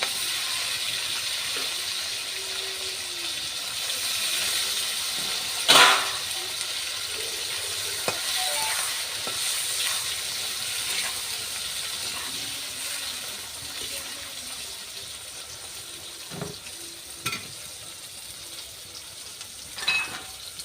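Eggplant fries in hot oil left from frying shrimp, a continuous close sizzle broken by a few sharp clatters and stirring scrapes, with no talking.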